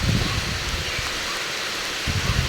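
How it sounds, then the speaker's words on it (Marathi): Steady rain hisses evenly throughout, with brief louder bursts of rustle at the start and end, no voices present. "तर पावसामुळे एवढं लांब लांबपर्यंत पाऊस आहे"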